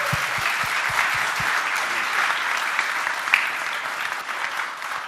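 A keynote audience claps in full, continuous applause at a steady, loud level, a crowd of hands with no voices standing out.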